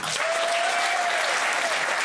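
A studio audience at a French talk show claps steadily for a politician guest, a dense wash of applause that fills the whole stretch with a faint voice underneath.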